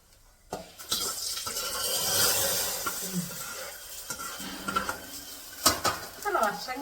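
Mustard seeds tempered in hot oil pour into boiling sambar with a burst of sizzle and spitting, alongside utensil clatter and stirring noises in a kitchen, with a few sharp pops and clinks.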